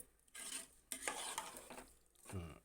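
Salt and chili powder are stirred into vegetable pieces for a village-style pappu charu, giving a few distinct scraping, tossing bursts of spoon against pot, fairly close, with no talk.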